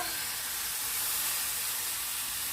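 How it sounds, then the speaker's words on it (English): Boiling water pours over thinly sliced peeled potatoes in a pan, a steady close hiss and splashy rush lasting a few seconds. "Some boiling water."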